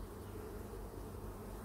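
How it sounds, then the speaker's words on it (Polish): Honeybees buzz at an open hive, a dense, steady hum of many insects, close but quiet, with no voices. "Pszczoły pracują."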